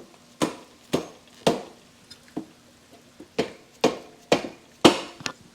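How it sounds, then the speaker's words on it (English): Sharp metallic knocks of a hammer on 1983 Kawasaki GPZ1100 motorcycle suspension parts, struck one at a time with uneven pauses, about nine blows ringing out close by with no talking. "Just needed to get a hammer."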